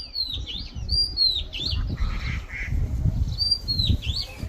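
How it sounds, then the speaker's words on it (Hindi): A bird in a walnut tree sings a series of clear, high, sweeping whistled phrases, repeated at intervals over a rumbling outdoor background of wind and low noise, with no talking. "अब देखिए ठीक अखरोट के पेड़ पे एक पक्षी है जो काफी खूबसूरत आवाज निकाल रही है। अब गौर से सुनो।"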